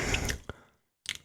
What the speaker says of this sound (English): I like hearing your bubbles.